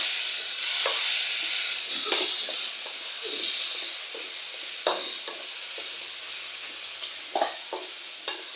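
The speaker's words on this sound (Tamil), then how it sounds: "இப்போ நல்லா நம்ம இந்த கரண்டி வச்சு நல்லா தக்காளியை உடச்சி விட்டுருலாங்க" Cooked tomatoes for village-style chicken curry are mashed with a ladle in a sizzling pan, a steady frying hiss broken by intermittent soft scrapes and taps of the ladle.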